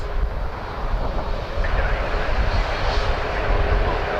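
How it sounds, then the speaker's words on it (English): A WestJet Boeing 737 MAX 8 jet airliner bound for Cardiff gives off a continuous, fairly loud engine roar with a low rumble, growing a little stronger over the few seconds. "And then we get a WestJet Max 8 to Cardiff, WestJet 92, that's that one, to Wales."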